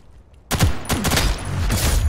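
Gunfire from the video game Ghost in the Shell: First Assault: rapid, loud bursts of shots break in suddenly after a quiet moment and keep going as a dense fusillade that continues to the end.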